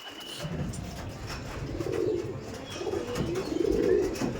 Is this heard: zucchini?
no